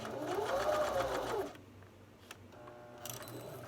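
A sewing machine stitches a diagonal dart in fabric with a steady, close whirring run that stops after about a second and a half, followed by faint clicks and handling noises.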